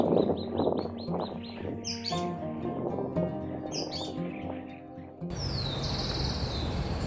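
Small tropical parula singing bright, high buzzy trills and chirps in central Argentina, fairly close, over a soft background hiss; no talking.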